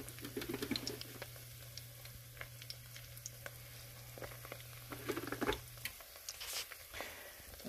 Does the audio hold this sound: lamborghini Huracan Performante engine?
no